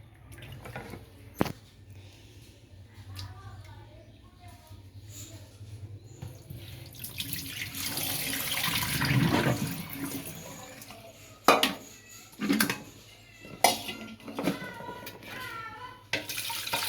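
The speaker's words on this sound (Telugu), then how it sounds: "మళ్ళీ ఇంకొకసారి నీట్గా తెల్ల నీళ్ళు వచ్చేట వరకు కూడా కడుక్కోండి" Homemade butter is washed by hand in water, with sloshing and swishing that builds to a louder burst midway, then scattered drips and clinks, close and moderately quiet.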